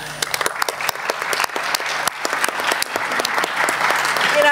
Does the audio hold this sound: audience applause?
yes